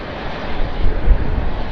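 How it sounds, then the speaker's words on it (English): A Singapore Airlines airliner at Sydney Airport roaring steadily, a loud broadband engine rush with a deep rumble and no talk. "Flight on your screen now is Singapore flight 222."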